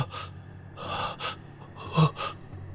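A man gasps and pants for breath in sharp, ragged bursts, several quick heaving inhales and exhales with one louder gasp near the end, close and alone.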